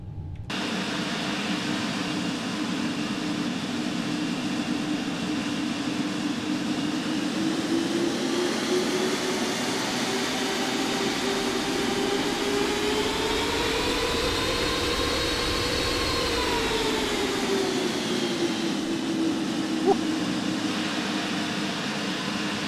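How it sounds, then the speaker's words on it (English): Jet airliner engines in the X-Plane 11 flight simulator, with Boeing 737 and 787 aircraft, give a steady loud roar and whine with a tone that slowly rises and falls, running continuously without talk. "listen to those engines"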